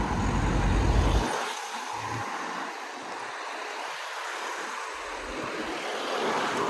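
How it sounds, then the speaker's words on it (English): Road traffic on a main road in Snowdonia National Park, with a loud car passing close at the start, then a steady wash of vehicles rolling by at moderate distance, no talking. "let these cars go past so I can come out."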